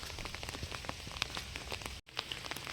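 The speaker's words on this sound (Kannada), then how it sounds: "ಮಳೆ ಬರ್ತಾಯಿದೆ. ನೋಡೋಣ ಇಷ್ಟು ತನಕ ಮಳೆ ಬರುತ್ತೆ ಅಂತ. ರೋಡೆಲ್ಲ ಒದ್ದೆಯಾಗಿದೆ" Rain falling on a wet road during an evening walk, light steady patter with scattered distinct drips and splashes close by, broken by a brief gap, with no speech.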